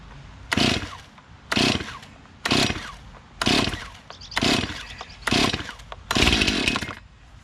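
A repaired Stihl MS291 chainsaw is pull-started again and again, giving seven loud, rough bursts of roughly equal length that fire briefly and then die, with short quiet gaps between them.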